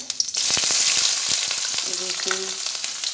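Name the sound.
vegetables frying in a pan for chow mein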